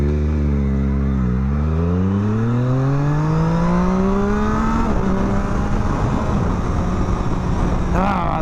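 Triumph motorcycle engine revving up through the gears with a quick shifter, the loud rising pitch dropping briefly at each clean upshift, close and continuous over road noise.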